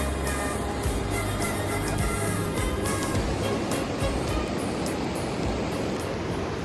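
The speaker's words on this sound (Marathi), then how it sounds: "इकडे तुम्हाला आवाज येतच असेल नदीचा किती छान आवाज येतोय" A riverside at Kasol carries the rushing of a flowing river as a constant, broadband wash of water that stays even and fairly loud throughout.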